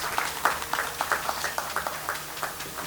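Audience applause at an agricultural business school launch event, heard as sparse, fairly faint hand claps spread unevenly across the moment, with no talk over them.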